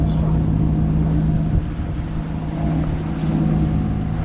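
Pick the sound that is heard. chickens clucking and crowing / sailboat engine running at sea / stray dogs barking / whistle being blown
sailboat engine running at sea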